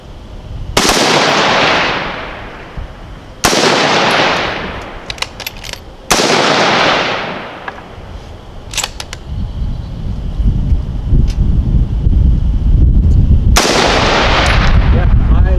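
Four sharp, loud AR-15 rifle shots at an outdoor range crack out at uneven intervals, each trailing off in a ringing echo, with rumbling background noise building toward the end.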